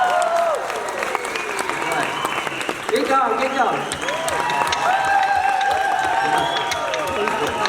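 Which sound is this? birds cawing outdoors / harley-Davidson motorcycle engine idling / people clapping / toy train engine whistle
people clapping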